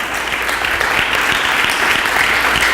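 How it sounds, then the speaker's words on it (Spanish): Congregation at a Spanish-language church service claps hands together, a dense, steady wash of applause that fills the space at an even, loud level throughout. "Si le va a dar palmas, déselas."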